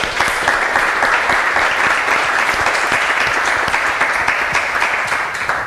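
A round of applause from a conference audience at an open data unconference session, steady dense clapping that fills the whole stretch with no talk over it.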